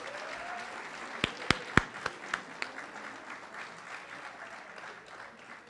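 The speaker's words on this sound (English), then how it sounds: "Please give her a round of applause." Applause at an awards ceremony as an honoree is named: a quiet background of clapping with a brief burst of five or six sharp, close claps in the middle that quickly fades back to a soft murmur.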